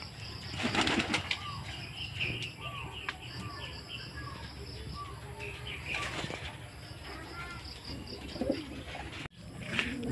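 Racing pigeons coo steadily and flap their wings at feeding time in a loft, with bursts of wingbeats and soft chirps over a constant busy background hum.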